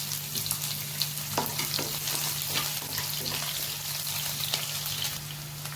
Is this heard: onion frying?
yes